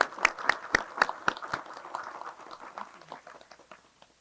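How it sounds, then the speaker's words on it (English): Audience round of applause for a senator at a human trafficking report event, opening with a few sharp, distinct claps that thin into scattered, fading clapping. "Let's give her a round of applause."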